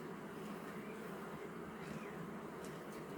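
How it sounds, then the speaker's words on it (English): A dense, continuous buzzing of many honeybees disturbed in an opened honey super during a harvest, close and fairly loud, steady throughout with no talking. "The bees are starting to get loud."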